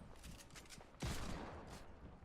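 Gunfire in a Fortnite match, a burst of shots followed by a louder blast, heard fairly faint as in-game sound with no talk over it.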